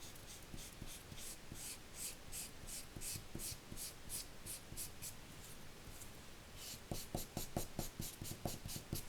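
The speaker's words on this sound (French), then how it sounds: "Mon feutre, des fois, il a du mal à colorier" A felt-tip marker scratches rapidly back and forth across a paper card while coloring, a fast rhythmic rasping, close and soft, with brief pauses and a quicker burst toward the end.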